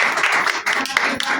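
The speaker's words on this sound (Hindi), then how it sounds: "जोरदार ताली बजाएं" Audience applause for a woman being welcomed at a gathering, a dense steady patter of many hands clapping close by, briefly dipping mid-way before resuming.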